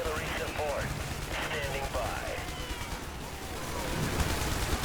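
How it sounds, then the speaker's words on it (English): Gunfire rattles in the video game IS Defense, with scattered bursts and shots over a busy battle backdrop while a voice speaks over parts of it. "What the hell are these guys shooting at me?"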